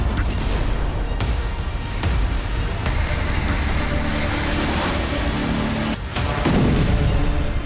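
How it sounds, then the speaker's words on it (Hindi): A Russian missile strikes near a residential building and market in Ukraine, producing a continuous loud, rumbling roar broken by sharp cracks and a heavy blast near the end. "तभी एक जोरदार धमाका हुआ और आग का गुबार नजर आया। यह रूस की मिसाइल का हमला था।"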